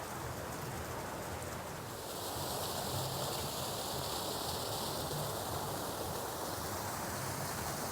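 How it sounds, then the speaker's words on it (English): A waterfall on 5th Avenue in New York City at night gives a steady, broad rush of falling water that swells slightly louder partway through, with no talk. "Spectacular waterfall."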